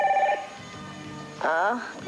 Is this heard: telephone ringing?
yes